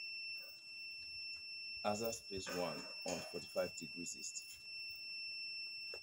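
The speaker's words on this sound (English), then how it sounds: "I think you can hear the beeping of my tracking device right now." Satellite tracking device emitting steady high-pitched electronic tones, faint and continuous throughout, with a person talking over it.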